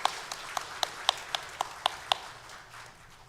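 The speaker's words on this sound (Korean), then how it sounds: "우리 찬양으로 섬겨줄 우리 최바울 형제에게 우리 격려의 박수 부탁드리겠습니다" Applause in a church service after a worship song, heard as a series of separate sharp claps at an even rhythm, fairly faint and thinning out toward the end, with no talking.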